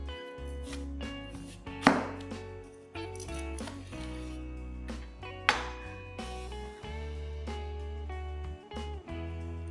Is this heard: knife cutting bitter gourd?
yes